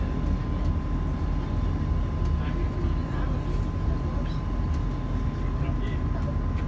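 Inside Middlesbrough railway station, a train gives off a steady low rumble and engine drone with a faint sustained tone, constant throughout amid general station ambience.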